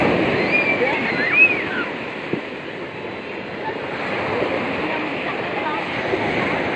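Waves wash onto a beach in a steady, loud roar of surf, with wind buffeting the microphone and faint voices in the background.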